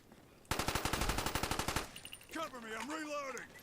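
Rapid burst of automatic gunfire in Call of Duty Black Ops, loud and close with about a dozen quick evenly spaced shots, followed by a voice talking.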